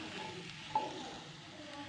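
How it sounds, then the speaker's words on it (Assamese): Chopped tomatoes and onions sizzle quietly in a kadai, a soft steady frying hiss broken by one faint clink. "বিলাহীকেইটা টুকুৰা টুকুৰকৈ কাটি লৈ কেৰাহীত দি দিছোঁ।"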